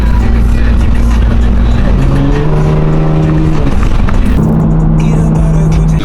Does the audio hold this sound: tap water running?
no